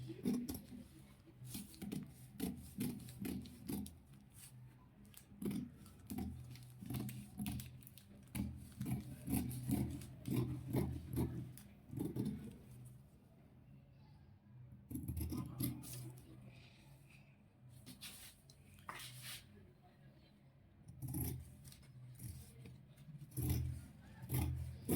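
Scissors cut fabric for an off-shoulder gown, giving repeated close rasping snips and rubbing strokes in uneven bursts over a long stretch, with brief quiet gaps between passes.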